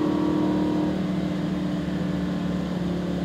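A Lamborghini Huracan on a race track drones under steady acceleration, a continuous muffled engine tone heard from inside the car, moderately loud and unbroken, with no talking.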